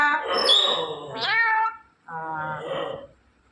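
Two close, strained meow-like calls in succession, the first long and wavering, the second shorter, from a parrot imitating a cat.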